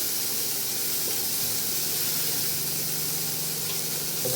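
Potato batons frying in a little oil in a pan, a steady close hiss and sizzle holding level throughout with no voices.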